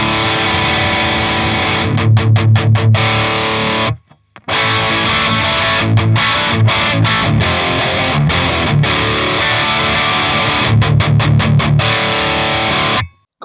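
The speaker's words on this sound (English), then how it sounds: "Let me crunch it up a little bit more by raising the mids here and lowering the gain even more." Electric guitar played through a Mesa Rectifier amp with the gain lowered for a crunchy distorted tone, loud riffs with rhythmic palm-muted chugs and sustained chords, broken by a brief silence midway.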